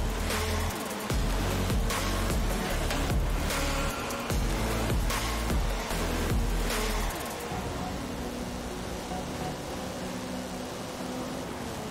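A car racing at speed in Forza Horizon 5, a loud continuous roar of engine and road noise holding steady, easing slightly toward the end; no talk.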